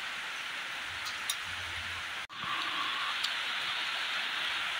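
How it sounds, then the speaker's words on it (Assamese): Steady rain falls during a stretch of wet weather, a constant broadband patter and hiss that briefly cuts out before resuming, with a couple of faint clicks and no speech. "এইকেইদিন পুৰা বৰষুণ দি আছে"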